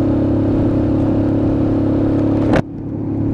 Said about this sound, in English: that's got a very, very low, deep growl to the engine